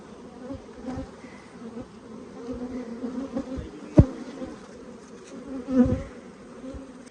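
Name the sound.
honey bees buzzing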